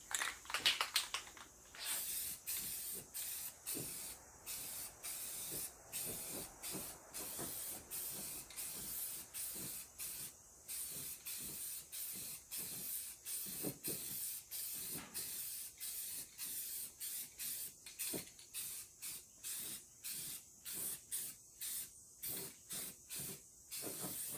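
Black paint being sprayed onto the firewall of a 1956 Chevy truck: long, steady hissing passes broken by short clicks and gaps as the trigger is released, fairly faint and heard without any talk.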